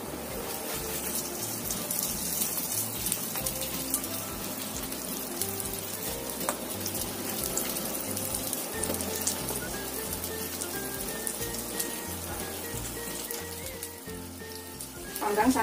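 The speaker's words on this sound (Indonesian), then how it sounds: "Panggang sampai kuning keemasan atau matang" Sweet potato snack pieces roasting in oil in a pan, a steady soft sizzle and crackle throughout, fairly even in level, with faint talk at times.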